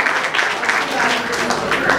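A school audience applauds a child's short drama performance, a brief, dense burst of clapping from many hands filling the room.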